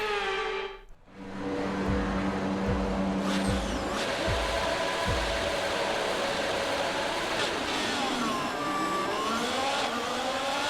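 Race cars launch at the start of an Australian GP in the F1 22 video game, a loud dense roar of many engines revving up and accelerating together, with repeated rising gear-change sweeps and no talk.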